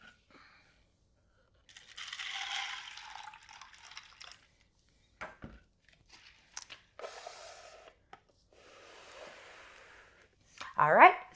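Hot water pours into plastic Solo cups to soak beans and peas, heard as several separate splashy filling bursts with quiet pauses between them.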